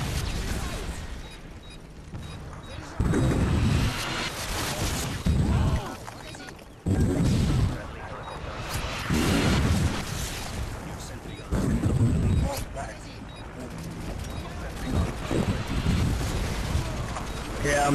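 Video game gunfire from Call of Duty MW2 on the Skidrow map in Demolition mode, heavy booming shots and blasts as something is shot down, loud and dense, layered with game noise throughout.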